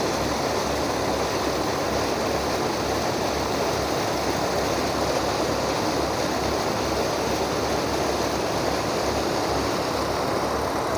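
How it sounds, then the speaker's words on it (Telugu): Water pumped heavily into a canal makes a dense, unbroken rushing roar like a waterfall, loud and constant throughout with a faint mechanical hum beneath. "వాటర్ని అయితే నిరంతరం భారీగా పంపు చేయడం జరుగుతూ ఉంది"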